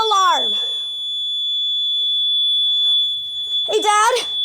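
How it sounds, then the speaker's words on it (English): An apartment fire alarm sounds a loud, steady high-pitched electronic tone throughout, with people speaking close by over it at the start and again at the end. "Fire alarm."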